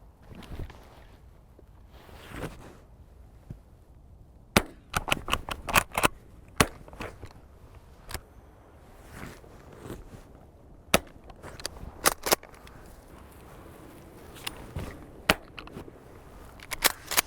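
Quiet .410 shotgun fired at pigeons from a hide, heard as a scattered series of sharp, brief cracks and clicks over faint outdoor ambience, some in quick clusters, none very loud.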